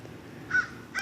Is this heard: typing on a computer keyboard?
no